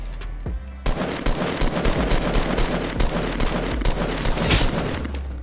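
In a battle royale video game, a dense, loud burst of rapid gunfire starts suddenly and continues as a fast, steady stream of shots close by for several seconds.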